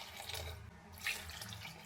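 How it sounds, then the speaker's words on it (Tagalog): Tap water running into a cooking pot in a home kitchen while preparing sinigang sa bayabas, a steady close splashing stream that swells briefly midway, with no talking. "Isalagyan ko lang ng tubig."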